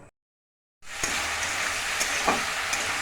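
After a brief silence, food being sautéed in a pan bursts into a steady, close sizzle with occasional crackles and a few stirring scrapes, and no talk.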